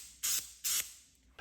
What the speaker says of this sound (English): To get the activator on here, shake it up. And it's just about 4 or 5 sprays.